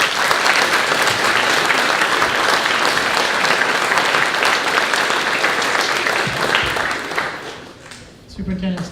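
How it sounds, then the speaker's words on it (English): Sustained applause from an audience at a 2016 graduation ceremony, dense clapping at steady strength for most of the stretch, then thinning and trailing off near the end. "So a round of applause for everybody who's here."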